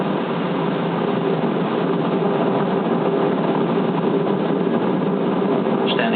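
Space Shuttle Discovery's launch engines at the Kennedy Space Center roar as a steady, dense, unbroken rumble, with a commentator's voice running over it throughout.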